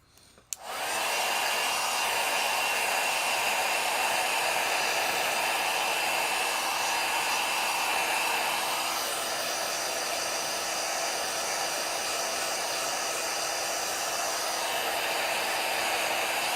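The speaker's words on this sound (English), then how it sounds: "I'm going to hit that with a heat gun." Heat gun blowing steadily on a watercolor painting, a loud continuous whoosh that switches on within the first second and holds for the rest of the clip.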